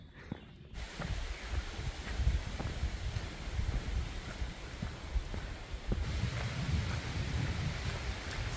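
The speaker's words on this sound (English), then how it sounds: "Oh man, the winds have kicked up" Strong wind roars and buffets a microphone on the Appalachian Trail in Connecticut, a loud, rumbling, gusty rush that rises and falls with occasional thumps, without talk.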